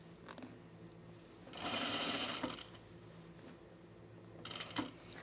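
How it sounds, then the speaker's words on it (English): A sewing machine stitches a seam on a blazer beside an easing stitch, heard in quiet bursts: a short run near the start, a louder sustained run in the middle and another brief run near the end, with no talking. "I'm just sewing just to the left of my easing stitch, like up against it"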